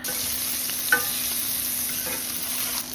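Lamb sausage meat fries in a hot, oiled pan with a steady, close sizzle throughout. A few soft clicks and scrapes are heard as the meat is moved.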